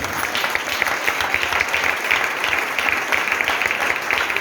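A church congregation applauds the Lord during a service, a dense, continuous wash of clapping from many hands, loud and steady throughout with no voices rising above it.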